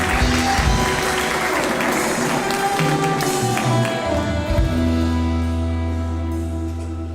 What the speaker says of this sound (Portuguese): aplauda aquele que é digno de toda honra, de todo louvor